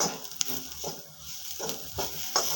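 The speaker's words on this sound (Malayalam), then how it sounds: "നമുക്ക് ഈ മുളക് പൊടി, മഞ്ഞൾപ്പൊടിയും കൂടി ഇട്ട് കൊടുത്ത് നന്നായി ഒന്ന് ഇളക്കാം." Kashmiri chili powder and turmeric are stirred into masala frying in a pan for a chickpea curry, giving several soft, scraping stirs at uneven intervals over a faint background sizzle, close and fairly quiet, with no talking.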